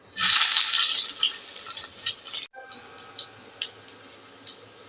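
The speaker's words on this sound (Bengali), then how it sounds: "তেল গরম হয়ে গেছে এখন দিয়ে দিচ্ছি পেঁয়াজ" Onions hit hot oil in a wok with a loud burst of sizzling that settles into a quieter steady crackle with scattered pops.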